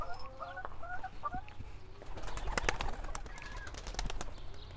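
Chickens clucking in a coop, with soft pigeon-like calls and scattered clucks, followed by busier scratching, pecking and fluttering noises at close range.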